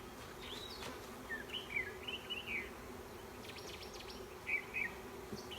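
Honeybees drawing out comb at an open hive, a soft buzzing murmur with a few nearer bees zipping by in short, rising passes.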